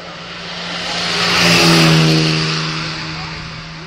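A fast white car climbs Kop Hill at a 2013 hill-climb event, its engine swelling to a loud pass-by with a rising and falling note before fading away, while a voice in the crowd speaks over it.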